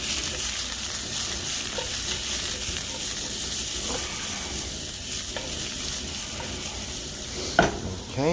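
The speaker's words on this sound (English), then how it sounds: "I'm cooking my onions real good just to get out them flavors" Diced onions sizzle steadily while frying in a pan, a constant close hiss broken by a few soft stirring scrapes and a sharp clack near the end, with no talking.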